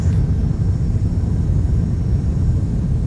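An airliner making a fast emergency landing under maximum braking in X-Plane 11, with a continuous heavy low rumble of engines and roll-out, loud and steady for a few seconds.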